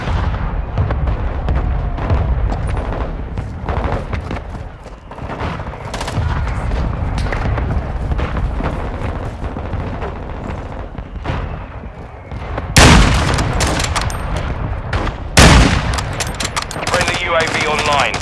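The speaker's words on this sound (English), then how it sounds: "Our mortar strike is inbound." Mortar strike explosions and rapid gunfire in Call of Duty: Modern Warfare II, loud booms and bursts of shooting repeating through a battle, with voices calling out over the din.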